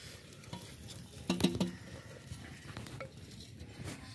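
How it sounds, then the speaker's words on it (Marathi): Soaked, washed rice coated in ghee is stirred in a clay pot of milk buried in the ground, giving quiet scraping and soft shuffling, with one sharper clatter of the spoon against the pot. "त्यामुळे आपण हे तांदूळ असे हलवून घेणार आहेत"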